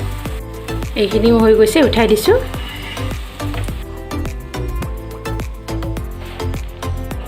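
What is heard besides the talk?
boondi batter frying in hot oil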